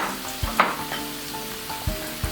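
Red peppers and pineapple sizzle steadily in a hot pan, a continuous frying hiss broken by a few soft knocks from stirring, heard up close without speech.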